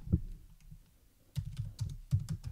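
Fingers tap a computer keyboard in short bursts of soft, close clicks, with pauses between the bursts, while a folder name is typed in.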